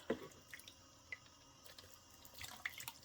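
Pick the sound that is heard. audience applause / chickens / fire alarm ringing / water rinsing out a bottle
water rinsing out a bottle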